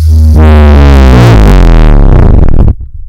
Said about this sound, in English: I can show you what dubstep sounds like